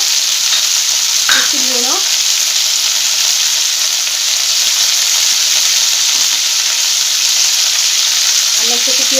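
Onion leaves and potato fry steadily in a pan, a loud continuous sizzle throughout, with a brief voice speaking near the start and another short voice at the end.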